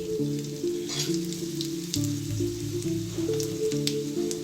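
Dried chillies and seasoning seeds crackle and sizzle in hot oil with bright popping bursts, while steady melodic music plays loudly underneath throughout.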